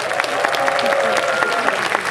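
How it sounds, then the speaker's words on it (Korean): Applause from a large crowd at a military entertainment show held at the Korea Military Academy, dense and steady clapping with a faint sustained tone and crowd murmur underneath. "여러분 다시 한번 박수 부탁드립니다"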